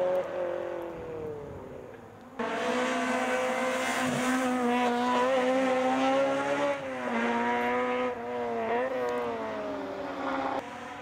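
A Renault 5 GT Turbo rally car at full power on a hill climb, its engine note rising and falling through gear changes, loud and close from start to finish with no talk.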